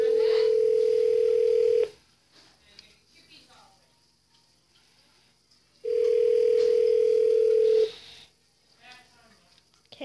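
A phone line's ringback tone sounds twice while a call is placed, each a steady electronic tone about two seconds long separated by a pause of quiet room noise, clear and close.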